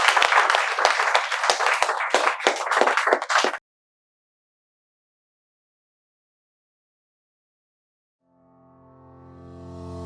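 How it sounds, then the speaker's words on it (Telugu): A short burst of brisk clapping from a small group welcoming viewers to a spoken English lesson, loud and close for a few seconds, then it cuts to silence before a low tone swells in near the end. "మేము చప్పట్లతో మీకు స్వాగతాన్ని తెలియజేస్తున్నాం"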